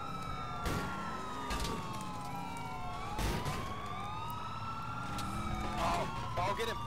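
Emergency vehicle sirens from the GTA IV video game wail and sweep up and down, several overlapping at once, loud and close, with engine noise and occasional voices underneath.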